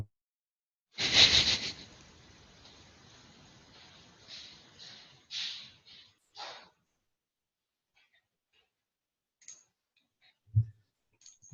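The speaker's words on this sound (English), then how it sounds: "This microphone is right next to my super loud, crazy mechanical keyboard now" Someone types on a very loud mechanical keyboard placed right beside the microphone: close, sharp clacking bursts of keystrokes for several seconds, then near silence with a couple of isolated clicks.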